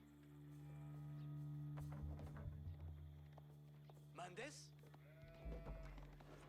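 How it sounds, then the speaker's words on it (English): Sheep bleat in an Age of Empires IV match as a flock is herded back, several short cries rising above the game's music and clip-clopping hooves. "Sheep being brought back."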